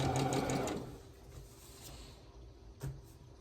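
Sewing machine stitching a quilt block: a brief run of rapid mechanical stitching at close range fades into quiet room noise, with a single soft knock near the end.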